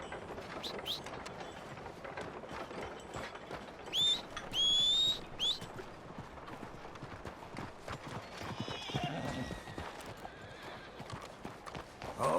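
A horse in Red Dead Redemption trots with steady clip-clop hoofbeats and gives a couple of high neighs, with faint birdsong in the background.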